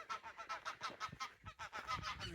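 A flock of geese in North Yorkshire honks continuously, many overlapping nasal calls at a steady distance, busy and rhythmic.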